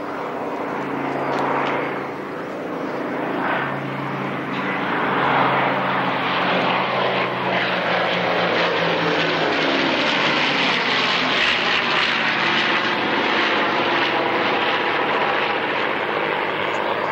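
P-51 Mustang and Spitfire warbirds fly past at the 1994 Great Warbirds air display at Wroughton Airfield, their piston engines making a steady, loud, broad drone. A low harmonic hum in the opening seconds gives way to a sustained roar that fills the whole stretch.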